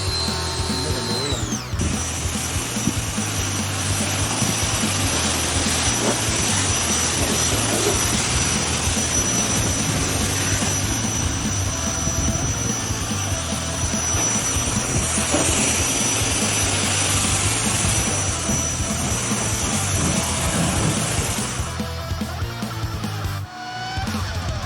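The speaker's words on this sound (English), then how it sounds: "With the hydrojet, we rinse away all the product, leaving behind a spotless surface." A hydrojet pressure washer rinses foam shampoo off a car, a loud, steady hiss of high-pressure water that runs almost continuously for over twenty seconds, close by, with no talking.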